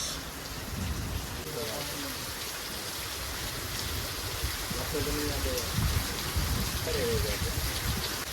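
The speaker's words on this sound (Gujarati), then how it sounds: "વરસાદ ચાલુ થઈ ગયો છે" Steady rain falls with a constant hiss of drops on surfaces, while people talk intermittently in the background.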